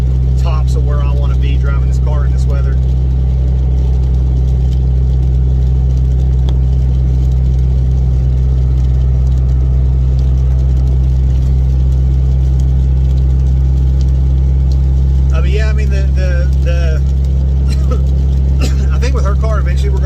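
A Dodge Neon SRT4 on big tires drives through rain at about 50 mph, its engine a steady low drone under constant road and rain noise, with valve chatter and someone talking at times.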